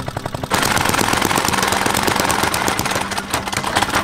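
An engine on a house-building site chugs and stutters as it bogs down and runs flooded, a rough, uneven rapid knocking that starts abruptly and continues loudly and close.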